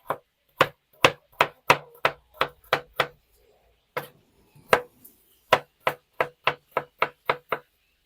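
A knife chops carrots steadily on a cutting board, sharp close knocks in quick runs with a short pause midway, with no voices.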